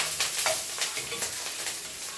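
Garlic and chili sautéing in a hot pan, a bright, steady sizzle with soft stirring scrapes, close and continuous, no voices.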